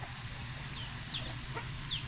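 Chickens cluck and chirp in short bursts over a steady low farmyard hum, with a few brief higher squawks.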